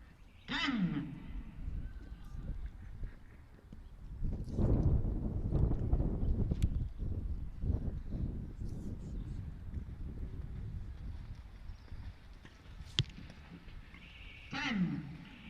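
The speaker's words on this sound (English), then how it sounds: "you probably could hear the wind blowing" Wind gusts across an outdoor archery range during a women's compound gold match, a low blustery rumble that swells in the middle and fades, with a few sharp knocks and brief calls.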